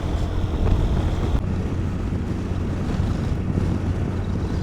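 Steady wind roars loudly past a microphone on a motorcycle cruising at 80-90 km/h in monsoon weather, forming a continuous low rumble with no speech.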